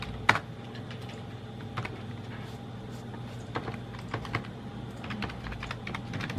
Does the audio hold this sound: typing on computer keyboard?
yes